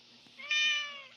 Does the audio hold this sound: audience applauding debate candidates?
no